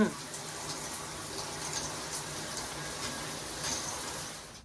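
Shower water running in a home bathroom, a steady hissing spray that continues evenly without pause, fairly close and moderately loud.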